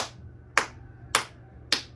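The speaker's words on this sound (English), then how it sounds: "You can clap like this" Relaxed hand claps using more wrist and less energy, four crisp evenly spaced claps about half a second apart, close and alone over a quiet background.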